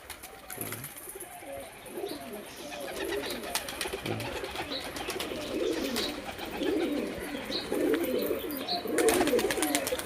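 Racing pigeons coo steadily in a loft, with overlapping soft throaty calls and wing rustles close by, growing slightly louder toward the end.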